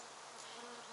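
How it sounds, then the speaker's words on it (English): A bee buzzes close around a camera outdoors, a loud, continuous droning hum that stays near for the whole second with no talking. "I got a bee right around my camera"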